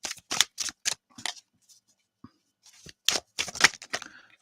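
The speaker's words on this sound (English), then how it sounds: "the cards are not wanting to shuffle" A deck of tarot cards is shuffled by hand in a few sharp, close riffling bursts separated by short pauses, with no voices.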